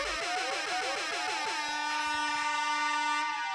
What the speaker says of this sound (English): everyone needs an air horn in their life